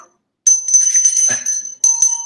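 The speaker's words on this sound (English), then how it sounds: "You get the bell." A bright bell rings out as a live-stream sound effect, a clear sustained ding that repeats in two bursts, loud and close with no talking over it.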